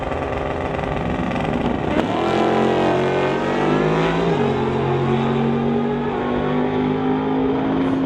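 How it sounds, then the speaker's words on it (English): Drag race vehicles in the West Coast Outlaw Street class, including a 2017 Suzuki GSX-R, launch and accelerate hard down the strip, a loud sustained engine roar climbing through gear shifts, with no talk. "And this is a drag race, folks."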